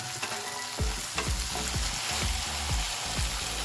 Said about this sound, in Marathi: छान असा टोमॅटो आपल्याला परतून घ्यायचा आहे.